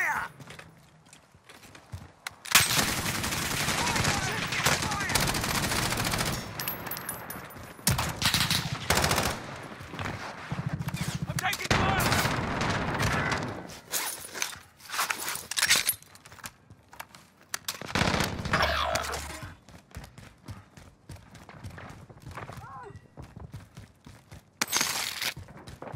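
Gunfire in the video game Call of Duty Modern Warfare, with bursts of rapid shots and clattering impacts coming in uneven waves over half a minute, separated by quieter stretches with faint footsteps.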